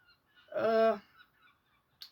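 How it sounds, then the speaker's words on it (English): A seagull calls once outside, a single loud, harsh, drawn-out cry lasting about half a second, heard alone in an otherwise quiet room. "I thought my cat was outside, but it's a bloody seagull"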